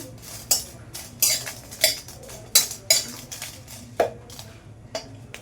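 A metal spatula works dry red chilies around a hot kadai, producing about ten sharp clanks and scrapes at irregular intervals with quiet gaps between, close and clear without speech.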